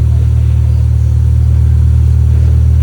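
Infiniti Q50 fitted with a resonated LDP exhaust idling and revving, a steady loud low rumble throughout with a constant drone and no voices.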